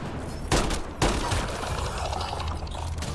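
Steady gunfire crackles in a Mass Effect: Andromeda firefight, with sharp shots near half a second and one second followed by a continuous rattling fusillade.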